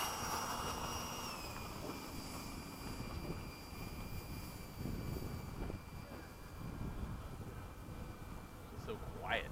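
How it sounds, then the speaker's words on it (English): An RC F-104 model jet with an XRP 14-blade fan taxis out for takeoff, a faint steady whine with a falling tone over a broad windy hiss outdoors at an airfield. "Taxiing out to take off."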